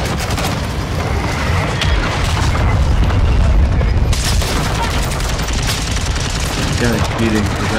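Dense, continuous gunfire and booming blasts in Call of Duty Modern Warfare, loud and close, with overlapping shots filling the whole stretch and a voice talking underneath.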